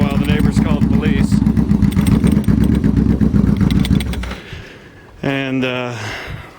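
A loud 2001 custom Yamaha V-Max motorcycle engine revving hard in a dense, pulsing roar that cuts out briefly, then returns as a steadier tone before fading, with some voice mixed in.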